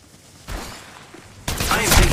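Gunfire aimed at the player during a ranked Apex Legends Mobile match: a sharp burst near the start, then a dense, loud, sustained barrage of rapid shots in the second half.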